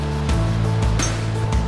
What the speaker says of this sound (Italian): là c'è una cascata